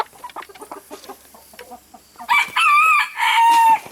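Backyard chickens cluck in a rapid, irregular run of short notes close by, followed by a rooster's loud, drawn-out crow in two long phrases.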